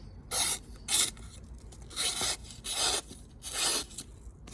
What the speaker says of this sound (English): you can tell it starts tearing a little bit there. Not the smoothest of cuts.